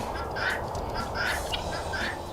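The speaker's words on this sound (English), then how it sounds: "They are female brown Chinese geese." Female brown Chinese geese give repeated honking calls at a moderate distance, several short bursts over steady low background noise, without talk.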